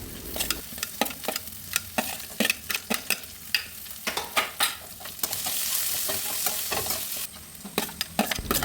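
Lentils fry in a pan with onion and ginger for a healthy upma, making a close sizzle under repeated quick spatula scrapes and stirring knocks, with a steadier hiss in the middle.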